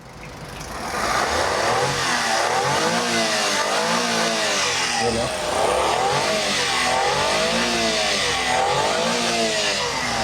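Engine of a customised mini van running close by, rising and falling through repeated revs over a steady idle, loud and continuous with no voices.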